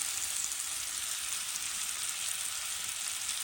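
Steak sizzles in a frying pan over a camp cooking setup on a Texas ranch, a loud, close, continuous hiss and crackle with no talk.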